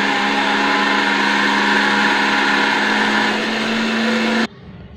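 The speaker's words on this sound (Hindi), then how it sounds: "इसको हम मिक्सर जार में पीस लेंगे" Mixer grinder blending mango juice with ice-cold water in a mixer jar, a loud steady motor whir with liquid churning that runs continuously, then cuts off abruptly near the end, leaving a quiet room.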